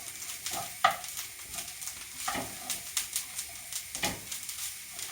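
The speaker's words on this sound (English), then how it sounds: "It does take just a couple of minutes to cook out the tomato puree." Tomato purée and Quorn mince sizzle softly in a pan while a spoon stirs in repeated scraping strokes, fairly quiet and steady throughout.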